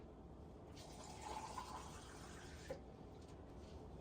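Filtered water pours steadily over cabbage in a container, a soft continuous rushing fill for a couple of seconds with a small splash near the end, quiet and close.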